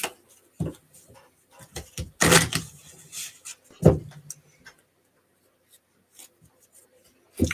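A deck of cards for the Arkham Horror card game is shuffled, a few quick riffling bursts and soft card taps separated by quiet pauses, close and fairly loud.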